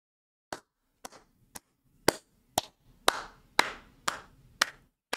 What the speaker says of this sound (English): That's the type of speech that you clap for right there